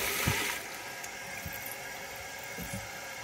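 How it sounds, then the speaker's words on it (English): Water rushing into a toilet tank as it refills after the supply is turned back on, a steady hissing flow with a few low knocks, moderately quiet and continuous. "Turning the water back on."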